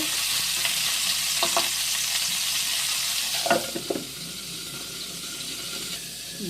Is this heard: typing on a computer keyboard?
no